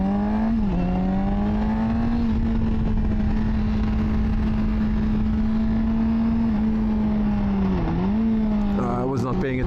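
A 2024 Honda CBR600RR motorcycle leans through a corner, its engine holding a loud, steady, close-up drone with brief pitch dips, and rising wind noise near the end.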